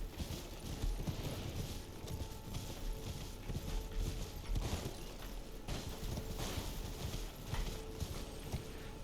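Horse hooves gallop in Elden Ring, played on PC, a steady fast clip-clop rhythm over a dense rumbling game soundscape, continuous and moderately loud with no talking.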